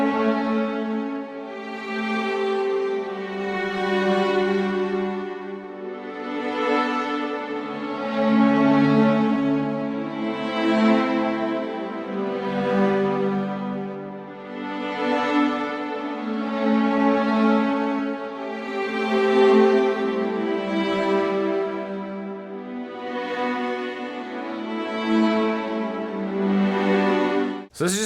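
Augmented string patch played from a MIDI controller, swelling sustained chords that rise and fall in slow waves, moderately loud and alone with no voices.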